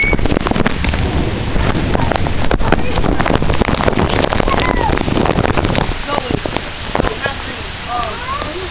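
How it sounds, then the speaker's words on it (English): Heavy rain pours down during a thunderstorm in Lehigh Valley, drumming hard and dense on surfaces nearby, easing slightly toward the end, with a voice speaking briefly partway through. "It just unleashed, raining. More like pouring."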